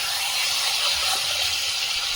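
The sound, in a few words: sizzling of fried fish being sautéed in spiced masala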